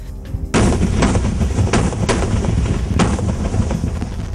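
Pakistani guns and mortars fire across the border at night, a dense, loud barrage of overlapping booming shots and sharp cracks with no pause and no voices.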